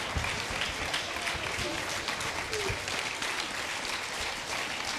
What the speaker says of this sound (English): Let's give them a round of applause as they're making their way forward.